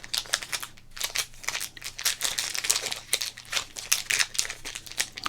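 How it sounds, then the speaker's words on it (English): A pack of 1994 Kickoff 94 football cards being opened, with bursts of crinkling and tearing wrapper plastic, close and loud in a quiet room. "I'm just kind of opening the pack of cards directly today"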